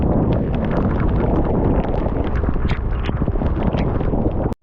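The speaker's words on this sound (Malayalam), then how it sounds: "ഭയങ്കര കാറ്റുമായി ഞാൻ പറഞ്ഞ ചിലപ്പോൾ കേൾക്കില്ല" Strong, steady wind roars and buffets the microphone during a heavy storm in the forest near Agumbe, Karnataka, a dense continuous rush with gusty flutter throughout, cutting off abruptly at the end.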